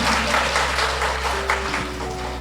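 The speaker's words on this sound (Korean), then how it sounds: "여기 계시는 위원님들께 진심 어린 격려의 박수 부탁드립니다." An audience at a residents' briefing session applauds, giving a brief burst of steady, moderately loud clapping from a room full of people.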